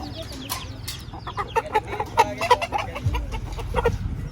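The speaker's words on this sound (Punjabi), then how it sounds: "ਨਾਲ ਮੁਰਗੀਆਂ ਵੀ" Hens and roosters cluck in a rapid, uneven stream at the Maghi Mela horse fair in Sri Muktsar Sahib, close and lively over a low crowd murmur, with faint voices in the background.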